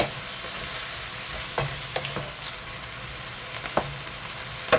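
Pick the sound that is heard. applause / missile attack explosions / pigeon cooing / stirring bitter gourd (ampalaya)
stirring bitter gourd (ampalaya)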